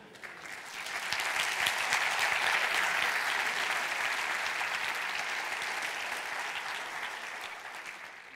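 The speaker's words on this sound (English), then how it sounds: "I'm not done and you just clap." Audience at a web design conference talk breaks into sustained applause, steady, dense clapping that swells within a second and holds loud for several seconds before easing slightly.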